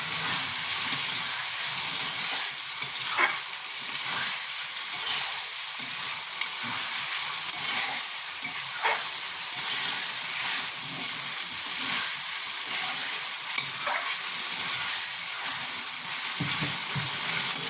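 Chopped tomatoes fry in a pan for a chicken and bottle gourd curry, giving a steady close sizzle with faint crackles and occasional soft clicks.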